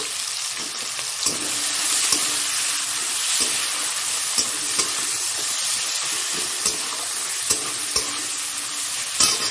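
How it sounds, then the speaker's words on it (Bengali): Chopped onion hits hot oil seasoned with panch phoron after eggs were fried in it for an egg curry, giving a steady close sizzle broken by regular clicks and scrapes of a spatula stirring the pan. "আর এটা পেঁয়াজ দিয়ে দিচ্ছি।"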